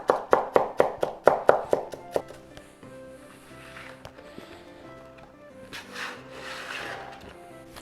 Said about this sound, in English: So we are just going to get our shallots cut, our garlic, and our herbs.